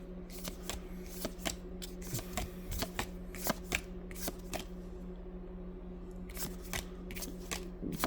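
Dragon Ball trading cards from a Rivals Clash booster pack being handled, a series of crisp flicks and snaps of cards shuffled and slid apart, close and fairly quiet over a low steady hum.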